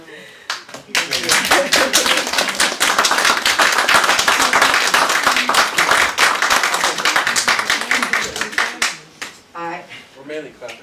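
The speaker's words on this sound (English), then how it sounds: "We're mainly clapping." Dense, steady clapping from a group at a water district board meeting, close and loud for about eight seconds before thinning out, with voices underneath.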